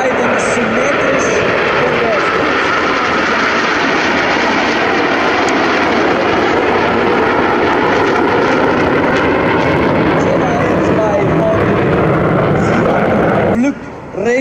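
Aermacchi MB-339 jets of the Frecce Tricolori Italian aerobatic team flying a display at Airpower 2019, a loud continuous jet roar filling the whole stretch, with a voice talking over it.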